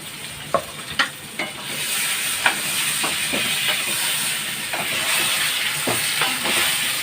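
Yogurt-marinated mutton with chili and turmeric powder fries in a pan, giving a steady, close hiss with intermittent sharp crackles and stirring scrapes; no one speaks.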